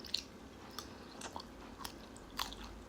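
Soft, sparse crunchy chewing of Samyang carbonara noodles, a few faint bites and squishy mouth sounds close to the mic over a quiet background hiss, with no talking.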